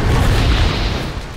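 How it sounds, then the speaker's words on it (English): A fortress blows up in a World War II shooter game: a loud, sustained explosion with a deep rumbling boom that fills the moment and fades slightly toward the end, with no voices. "Enjoy the explosion!"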